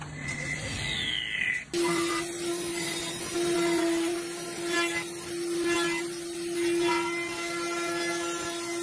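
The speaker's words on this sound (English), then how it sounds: "This lathe carves perfect concentric rings into timber" A wood lathe carves concentric rings into timber: after a brief abrupt cut, a steady high motor whine runs with faint scraping texture, close and even, with no voices.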